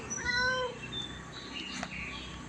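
A cat meows in a rising, drawn-out cry, close and clear, followed by quieter shuffling and faint background noise.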